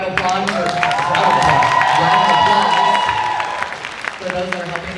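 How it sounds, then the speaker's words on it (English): An indoor crowd at a convention opening ceremony breaks into dense, sustained applause with scattered cheers and whoops, swelling and then tapering off over several seconds, with a voice briefly heard at the start and end. "Let's give another round of applause"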